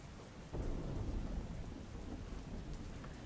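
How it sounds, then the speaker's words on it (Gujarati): Rain falls over Ahmedabad in a steady wash, with a low rumble swelling in early and lingering beneath the continuous patter, all at a soft, distant level. "અમદાવાદના અનેક વિસ્તારોમાં વરસાદ પડી રહ્યો છે"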